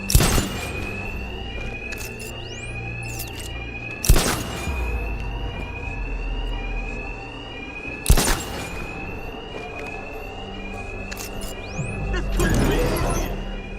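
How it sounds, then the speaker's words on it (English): A repeating electronic bank alarm tone in Batman: Arkham Knight rings on and off in a regular pattern, with three sharp bangs spaced evenly between the cycles. "My attacks will be covered by the noise of the alarm."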